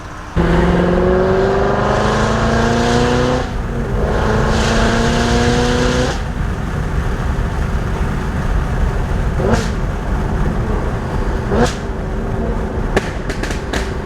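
A car on the road gives off a loud, close engine roar with rising tones as it accelerates through the gears, settling into a steady rumble of road and wind noise, with a few sharp knocks or clicks near the end.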